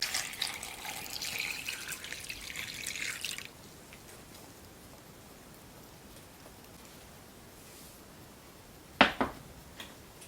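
Water gushes steadily into a pot holding eggs and onion skins for about three seconds, then stops, leaving quiet room tone with a couple of sharp clunks near the end.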